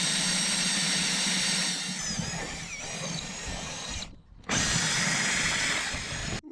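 A power drill whines steadily as it bores holes through the bottom of a boat hull, its pitch shifting under load, cutting out briefly and then resuming at full speed.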